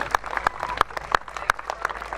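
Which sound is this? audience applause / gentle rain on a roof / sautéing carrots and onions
audience applause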